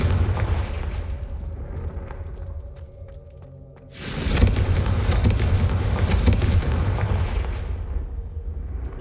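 In Hogwarts Legacy, the Confringo blasting spell goes off: a quieter lull with soft clicks gives way to a sudden loud explosive boom, followed by a sustained roaring rumble that slowly fades.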